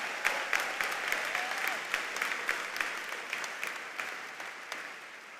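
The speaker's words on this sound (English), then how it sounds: "Can we give them a round of applause?" Commencement crowd at ETHS applauding the choir and band, a sustained wash of many hands clapping that slowly fades over several seconds, no voices.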